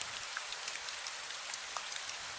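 Monsoon rain showers fall steadily on an open courtyard, a dense, even patter of drops with no voices.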